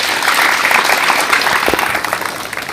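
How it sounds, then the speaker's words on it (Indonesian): A crowd of junior high students claps together at a school orientation event, dense and lively applause that stays loud before easing slightly at the end. "Oke, tepuk tangan untuk kita semua."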